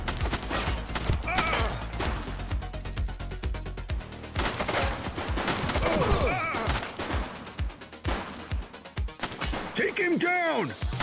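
Gunfire in a police video game, repeated bursts and single shots crackling through a busy mix of game sounds, with voices talking over it.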